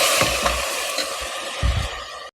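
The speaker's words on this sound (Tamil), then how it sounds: "இதுவும் நல்லா பச்சை வாடை போகிற வரைக்கும் நல்லா எண்ணெயில் நல்லா வதங்கட்டும்." Green chilies, coriander, mint and tomato sauté in hot oil for a biryani, giving a soft continuous sizzle with low stirring thumps, close and alone.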